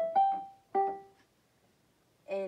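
Piano plays the opening notes of the Mario theme song: three quick clear notes struck in a short bouncy rhythm with a pause before a final note, close and alone.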